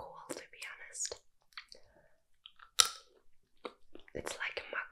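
Nuts chewed and crunched close to the mic in a soft ASMR setting in bed, short bites between whispered talk.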